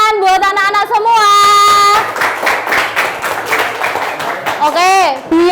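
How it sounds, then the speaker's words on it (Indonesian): Children in a classroom clap together during a religious-education lesson, a burst of scattered hand claps sandwiched between stretches of an adult speaking and voices calling out. "Sekali lagi tepuk tangan buat anak-anak semua."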